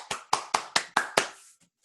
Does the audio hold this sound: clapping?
yes